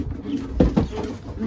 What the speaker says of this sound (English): So I have 18 pigeons now.